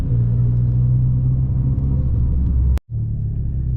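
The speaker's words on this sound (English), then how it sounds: "This is the big V8 I heard" A big V8 car engine rumbles loud and steady with a deep low drone, cutting out abruptly for a moment before resuming.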